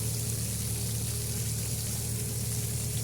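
Liquid manure gushes steadily from a spreader behind a DTZ 5404 tractor onto winter wheat. The wash of flow is loud and continuous, with a low mechanical hum running underneath throughout.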